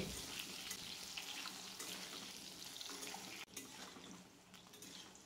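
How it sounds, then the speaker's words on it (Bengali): Cut potatoes frying in oil in a pan while a Bengali fish curry with ridge gourd is cooked, giving a steady, close sizzle throughout with a brief dip in the middle and no talking. "এরপর এর মধ্যে দিয়ে দিচ্ছি কেটে রাখা আলু। আলুগুলোকে আমি ভেজে নেব 3 থেকে 4 মিনিট।"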